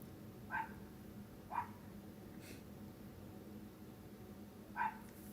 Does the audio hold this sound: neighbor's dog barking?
yes